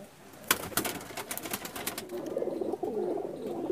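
Pigeons coo in a loft in a low, continuous murmur, with a few sharp fluttering bursts early on, close and moderately quiet.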